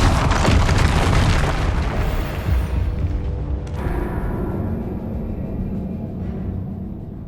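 Spell explosions in the Hogwarts Legacy video game, with a loud dense blast at the start that rumbles and crackles, then decays into a lingering roar before settling.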